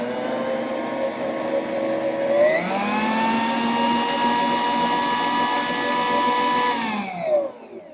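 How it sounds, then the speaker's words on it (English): An electric mixer beats butter for a coconut cake buttercream, a steady close whirring motor that rises in pitch partway through as the speed increases, then winds down at the end, with no talking. "So I'm going to mix up this butter."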